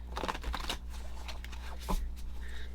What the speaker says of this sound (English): Shuffle a little more till it feels right.